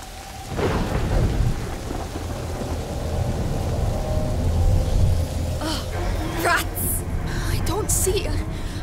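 A thunder and lightning storm in A Plague Tale: Innocence, with steady rain pouring throughout and sharp thunder cracks rolling in near the end, while a voice speaks briefly over the downpour.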